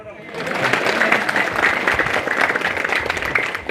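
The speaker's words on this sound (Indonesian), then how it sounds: "Tepuk tangan dulu dong." A crowd at a religious talk in a village claps together, a dense, even burst of hand clapping that rises quickly and holds steadily for several seconds, fairly close and loud.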